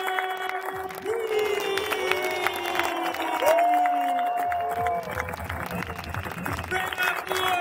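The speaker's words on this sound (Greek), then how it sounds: "Χειροκροτήστε τον." A crowd applauds and cheers rider Clinton Moore at a Red Bull X-Fighters freestyle motocross event in Athens, a steady wash of clapping from a large audience under a loud announcer's voice and other amplified sounds.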